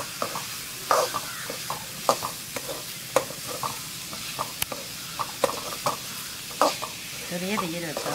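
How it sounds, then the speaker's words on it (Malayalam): A spoon scrapes and stirs papaya thoran with masala in a pan, sharp rhythmic scraping knocks repeated about once a second over a steady sizzle, close and fairly loud, with no one speaking. "നമ്മൾ മസാല ഇട്ട് നല്ലോണം മിക്സ് ആക്കി എടുത്തിട്ടുണ്ട്."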